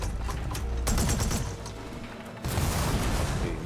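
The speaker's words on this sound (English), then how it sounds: "Okay, oh, and he had another heavy weapon? Bomb launcher, nice." A bomb launcher heavy weapon fired in Horizon Forbidden West, giving dense, loud bursts of blasts and booms with a brief lull between volleys and no talk.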